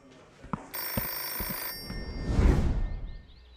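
An old-style telephone bell rings in a single sustained burst, surrounded by a few knocks and a rushing swell of noise afterward.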